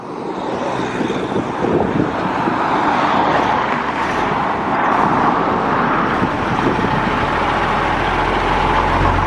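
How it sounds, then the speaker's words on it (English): A rare vintage British Guy lorry drives away at a classic truck run in Cheshire, its heavy engine a steady rumbling drone that builds in the low end as it moves off, with no voices. "now we have the chunky and rare Guy leaving"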